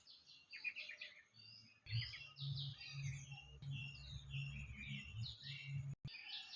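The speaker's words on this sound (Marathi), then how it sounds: "निरनिराळ्या पक्ष्यांचे किलबिल आवाज" Several different birds chirp and twitter in quick overlapping bursts outdoors among flowering powder puff shrubs, fairly faint over a soft low background hum.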